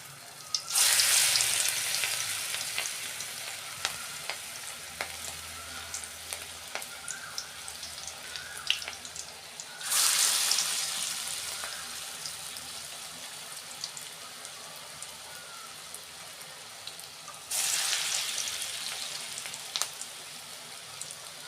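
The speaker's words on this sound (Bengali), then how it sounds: "গ্যাসের ফ্লেমটা আমি আস্তে করে দিয়ে ভাজছি।" Cabbage pakoras frying in oil over a low gas flame, a continuous soft sizzle with fine crackling pops, swelling into louder bursts of bubbling three times, no speech.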